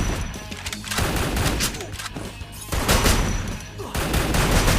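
Rapid, continuous automatic gunfire in the Free Fire shooting game, loud and dense throughout with slight swells, layered over busy game ambience.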